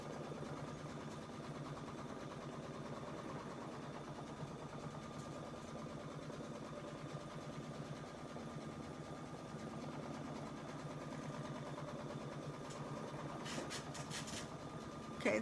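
A Baby Lock Solaris 2 embroidery machine stitches a border, giving a steady, even mechanical hum with fine rapid stitching texture that runs unbroken at moderate level, with a few brief higher clicks near the end.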